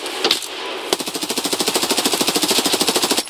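Sustained automatic gunfire in Escape from Tarkov, a rapid, evenly spaced burst of loud shots after a couple of opening cracks, close and dominant with no talk.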